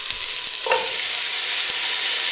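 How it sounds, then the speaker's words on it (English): Diced onion and bones sizzle steadily in a hot pot, a bright continuous frying hiss with a few soft stirring knocks and scrapes along the way. "After those bones have cooked for a little bit, toss in that diced onion."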